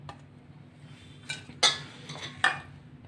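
Chutney ingredients, including pomegranate seed powder, cumin, vinegar and tamarind pulp, are stirred in a bowl with a spoon, giving soft scraping and a few sharp metallic clinks against the bowl, fairly quiet and close.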